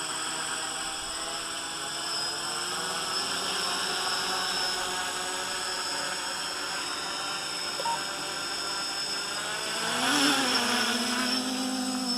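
Rising whine of GAUI X500 multirotor drone motors spinning up for takeoff, a steady broadband buzz that swells near the end as the craft lifts off, close and continuous with no talk.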